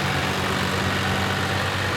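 A tractor pulls a Frontier RT3081 tiller while green manuring a food plot, its engine holding a steady, close, low drone throughout.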